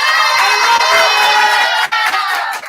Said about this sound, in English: Jacob gets a big round of applause